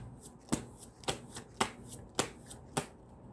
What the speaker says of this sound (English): Spirit is telling me to shuffle the cards again.